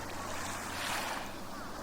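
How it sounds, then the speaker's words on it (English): High surf and strong wind at a beach roar together as a continuous, loud wash of broadband noise, swelling slightly near the middle with no voices. "The waves were super high and the wind was up."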